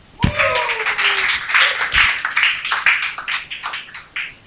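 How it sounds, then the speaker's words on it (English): Audience applause rises for a co-anchor on a TV show stage: a sustained round of dense clapping, loud and close, follows a sharp thump at the start. "a round of applause for my co-anchor, the delectable Duffy."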